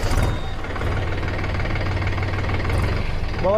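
A 2025 Mahindra 405 tractor's engine rumbles close by at a low, steady idle, chugging continuously throughout.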